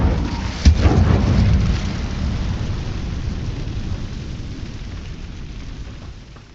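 A fire spell cast in Hogwarts Legacy erupts as a loud, rumbling whoosh with a sharp crack at the start, then rolls off into a long, fading roar with no talk over it.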